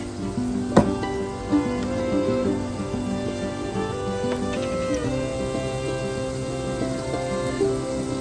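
Garlic sizzles in a hot frying pan with a continuous crackling hiss, broken by a few soft clinks and stirring scrapes, no voices.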